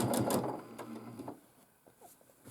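A domestic sewing machine quilting a large quilt gives a short burst of rapid mechanical stitching, followed by lighter clicks and handling noise as it stops.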